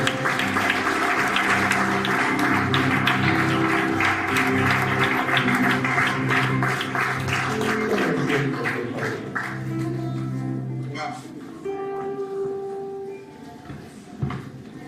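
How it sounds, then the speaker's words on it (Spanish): A church congregation bursts into strong applause amid lingering worship music and voices, the clapping dense at first and then thinning out to scattered claps and quiet room sounds. "Dale un fuerte aplauso de Cristo de Dios."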